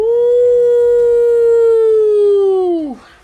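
A creature's howl used as a sound effect: a single loud, sustained tonal wail holding steady for nearly three seconds before bending downward and cutting off.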